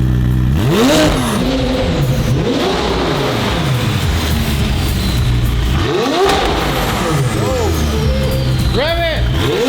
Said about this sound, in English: That turbo noise is so cool. Rev it, Tim!